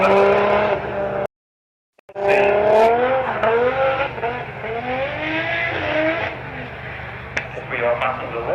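Drift cars slide around the Castle Combe circuit during a drifting action day, tires squealing and engines revving and wailing. A commentator talks loudly over the action, which cuts out briefly before resuming.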